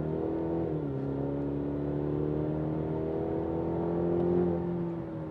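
A 2020 Cadillac CT5 at full throttle, its engine droning in a steady rising note that dips briefly at a gear change, then climbs and swells before easing off, heard from inside the car.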